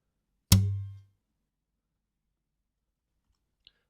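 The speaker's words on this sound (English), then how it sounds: "a clack when the hand presses the strings against the fingerboard instead" A virtual acoustic guitar software instrument produces one sharp string clack, a percussive, fairly loud hit with a short low buzzing tail lasting about half a second, followed by silence and a faint tiny click near the end.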